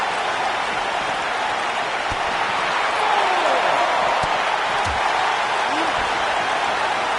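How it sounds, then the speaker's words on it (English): Arena crowd in a wrestling video game at a pay-per-view event, a steady dense roar of cheering and applause running loud and continuous throughout, with commentary voices over it. "In addition to this crowd being incredibly passionate here tonight"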